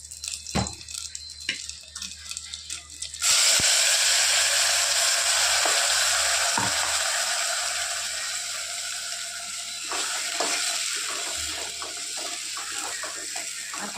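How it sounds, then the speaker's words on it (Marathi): Masala frying in oil and rendered mutton fat, starting with a few faint clinks and stirring taps, then breaking into a loud, continuous sizzle that holds steady and eases slightly, punctuated by spoon knocks. "आता याच्यामध्ये आपण मसाला परतून घेणार आहोत"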